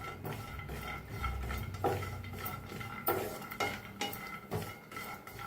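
Peanuts and coconut dry-roasting in a pan, heard as repeated clattering and scraping stirs of a metal utensil against the pan, close and moderately quiet, with no sizzle and no talking.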